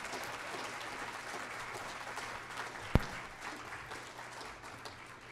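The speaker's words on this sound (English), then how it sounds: "A round of applause." An audience applauds a health minister after a public conversation event in Surrey, British Columbia, a soft, fairly distant wash of clapping with one sharp louder clap midway.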